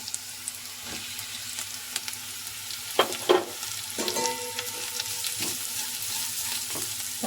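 Carrot pieces fry in a pan for carrot rice, with a soft sizzle under occasional stirring and a few louder scrapes and knocks of the spoon, close by.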